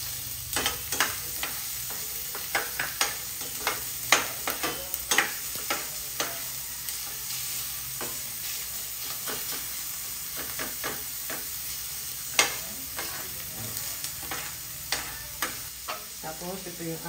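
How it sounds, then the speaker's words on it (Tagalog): Onion and garlic sauté in a pan for tuna pasta, a steady close sizzle broken by frequent sharp scraping stirs of a utensil against the metal, with faint intermittent talk in the background. "Lagyan natin ng bawang. So, lagyan natin yung"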